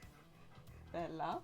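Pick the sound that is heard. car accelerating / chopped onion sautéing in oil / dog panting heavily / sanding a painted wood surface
dog panting heavily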